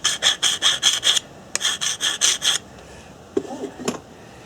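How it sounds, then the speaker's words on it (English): A pounded copper rod scrapes the burr from the edge of a knapped Thebes-style stone point: two close, brisk runs of about a dozen rhythmic rasping strokes, followed by a quieter pause with a few faint knocks. "Just going to take a little bit of the burr off it."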